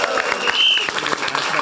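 A studio audience at a Dutch comedy show bursts into loud applause, dense clapping with cheers running steadily through the moment.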